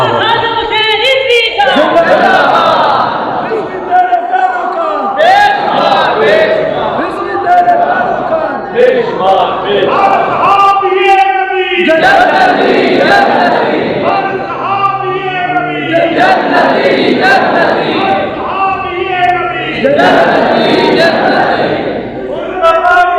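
A crowd at a religious gathering chants long slogans, the massed voices rising in loud repeated call-and-response bursts with brief pauses between phrases, close and dense throughout.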